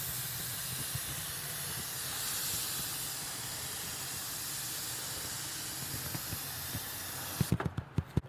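A fine water mist hisses steadily from a sprayer onto plastic car trim, a soft continuous spray that ends in a few short sharp clicks or taps.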